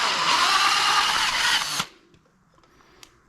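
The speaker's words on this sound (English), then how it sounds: "just checking to see if we've drilled the hole out to the bottom" A power drill whines loudly and steadily, boring a hole in a 1991 Kawasaki KX250 motorcycle engine part, then cuts off abruptly, leaving a few faint clicks and taps.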